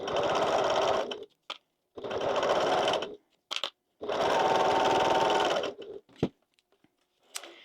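Sewing machine stitches a zipper seam in three long steady runs separated by short pauses, with brief clicks and taps between bursts, loud and close.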